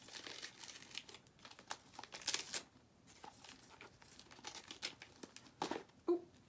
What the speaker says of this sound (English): It's taped to the paper, so I'm trying to open the paper.